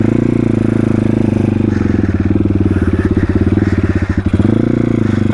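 A YCF 150 SM pit bike's single-cylinder engine runs loud and close, a steady throbbing idle with a brief uneven stutter in the revs before settling back.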